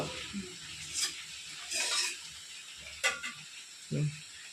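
Spices sizzle and hiss in a hot pan for soybean khichuri, with bursts of crackling and a few stirring scrapes, close by and fairly quiet.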